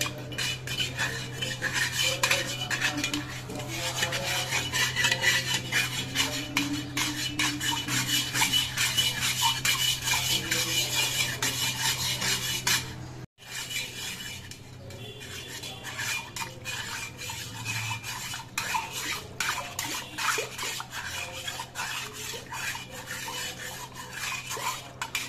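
A spoon stirs a medicine mixture for pigeons in a container, making continuous rapid clinking and scraping that is close and steady, with a brief pause midway and no talking.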